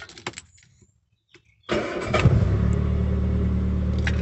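A Rover P6 engine is started on the choke: a few clicks and quiet cranking, then it catches abruptly and settles into a loud, steady fast idle that holds to the end.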